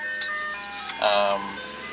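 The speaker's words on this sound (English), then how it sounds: "Ice cream truck going by at the same time, good timing." An ice cream truck passing outside plays its tinkling jingle melody at moderate distance, swelling briefly louder midway, while someone talks over it during car stereo installation work on a Toyota Tarago Previa.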